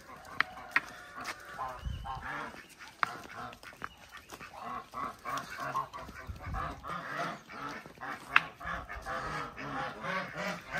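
Geese and ducks on a small hobby farm honk and quack in scattered, overlapping calls, fairly quiet and near, with sharp clicks and movement noises between them.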